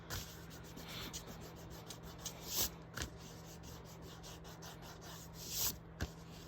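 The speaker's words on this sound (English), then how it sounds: "I'm going to use my eraser to get rid of all these lines." Eraser rubbing out pencil lines on paper while drawing spiral ferns, a faint, close scratchy rubbing in quick back-and-forth strokes with a few louder bursts.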